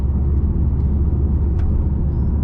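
A 2008 Subaru Forester XT with a manual gearbox and a rebuilt engine, heard from inside while driving: a loud, steady low rumble of engine and road noise with no voices.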